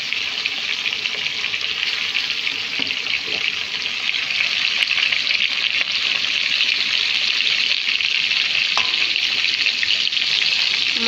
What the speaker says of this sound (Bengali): মাছগুলো আমি লাল লাল করে ভেজে নেব।